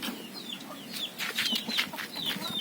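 Rooster of nearly pure labuyo junglefowl cross in a rural yard, giving a series of short clucks and soft calls close by, a few wing flutters mixed in.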